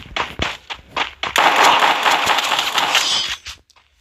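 Short-range gunfire in the Free Fire game: a few sharp single shots, then a dense rapid burst of automatic fire lasting about two seconds, loud and close, ending abruptly in quiet.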